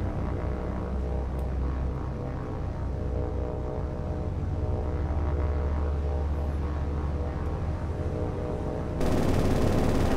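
Ship defenses in the naval combat game War on the Sea, defending a US carrier, fire a sustained, loud barrage of rapid gunfire. The dense rattle runs steadily throughout and swells sharply louder near the end.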